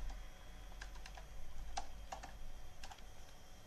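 A few sharp key presses on an Intergraph 2000 computer keyboard, spaced irregularly over a low steady hum, with one clearer click standing out near the middle.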